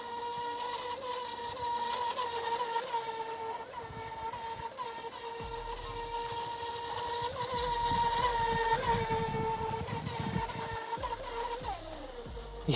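A Feilun FT011 brushless 4S RC racing boat runs at full throttle on the water, a loud sustained high-pitched motor whine with a steady tone and slight pitch wavering, plus water rush underneath, no speech.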